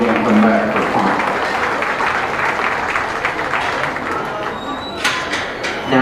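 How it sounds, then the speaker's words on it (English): Spectators at a county beef show ring applaud the cattle exhibitors, a loud, close crowd clapping that holds steady for several seconds, with a voice talking over it. "let's all give these exhibitors a round of applause"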